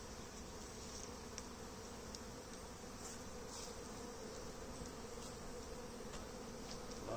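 Many honey bees hum steadily around brood frames as a nuc is moved into a brood box, a close, even drone with faint light knocks scattered through and no talking.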